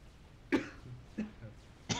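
Three short coughs spaced apart, fairly close and moderately loud, with a faint low background murmur.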